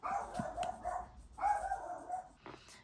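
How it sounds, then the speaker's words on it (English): A dog barks in a few bursts, some drawn out into whiny, howling yelps, sounding somewhat distant and muffled. "before the dog started going crazy"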